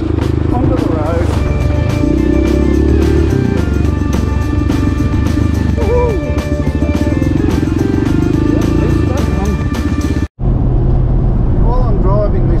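Adventure motorcycle ridden along a single-track trail through the Mallee beside major roads, its engine droning steadily and loud with wind rush throughout, a brief dropout near the end, while a rider talks over it.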